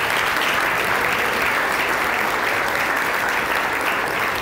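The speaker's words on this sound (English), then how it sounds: "So let's give a round of applause to Mark." A seminar audience gathered for a long-term care insurance talk gives Mark a round of applause: a steady, loud wash of many hands clapping together throughout.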